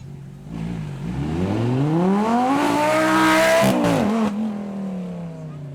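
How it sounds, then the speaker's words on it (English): A sports car engine revs hard on the Beaulieu straight at a supercar event, climbing steadily in pitch as it accelerates, then drops sharply at a gear change before settling into a lower drone. "Listening to that car from the Beaulieu straight"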